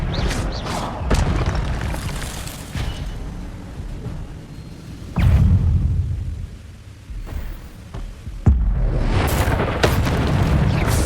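Repeated booming spell blasts in Hogwarts Legacy combat, several loud impacts bursting out in irregular succession, with heavier bangs near the middle and end and a continuous rumbling din between them.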